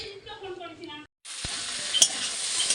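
Paneer stirred and fried in a pan, a steady loud sizzle with scraping stirs after a brief earlier stretch of tonal kitchen sound and a short silent gap.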